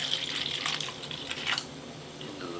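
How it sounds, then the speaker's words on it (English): Mountain Dew White Out soda pours into a glass with a soft, hissy splashing stream in a quiet room, coming in a few uneven surges. "Now let's go ahead and pour some of each of these"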